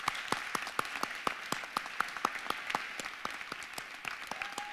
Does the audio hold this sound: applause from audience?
yes